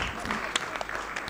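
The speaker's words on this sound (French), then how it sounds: "applaudissez pour Benita aussi, s'il vous plaît" An audience in a French finale competition applauding a finalist, a soft continuous patter of clapping from a crowd, fairly faint and distant throughout.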